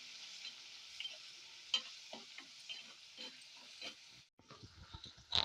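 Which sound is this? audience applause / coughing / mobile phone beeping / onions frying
onions frying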